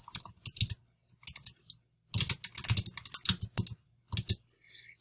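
Bursts of typing on a computer keyboard while writing a discussion board post, with close, crisp key clicks in several rapid runs separated by short pauses.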